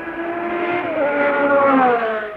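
A Ford race car passes at the 1968 Le Mans 24 Hours, its engine a loud, sustained rising and falling whine heard alone and close.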